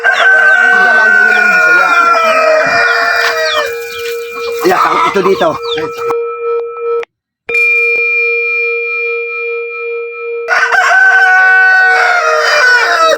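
Rooster crowing and chickens clucking among a flock of fowl, with a long sustained crow and a ringing clang, while someone speaks between the calls.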